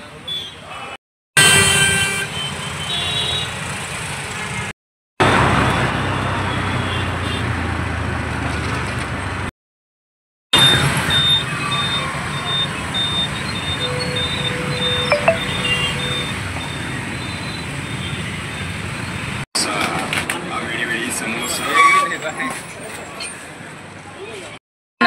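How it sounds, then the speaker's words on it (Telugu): Heavy road traffic near Benz Circle rumbles on with scattered car and truck horns honking near and far, the sound cutting out briefly several times. "అంత హెవీ ట్రాఫిక్."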